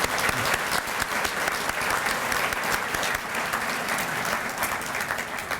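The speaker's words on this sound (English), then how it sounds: "Please join me in a round of applause for our major sponsors" Sustained audience applause at a county State of the County address honoring event sponsors, dense and steady clapping filling the room throughout without pause.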